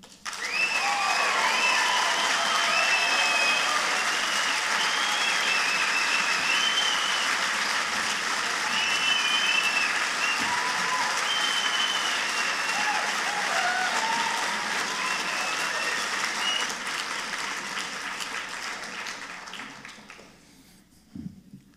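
Steady, enthusiastic applause from a sizable debate audience continues for a long stretch, then gradually dies away to silence near the end.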